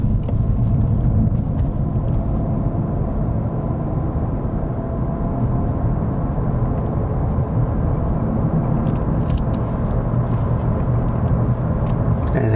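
Car driving heard from inside the cabin, a continuous low engine and road rumble with steady tire noise, even and unbroken, no voices.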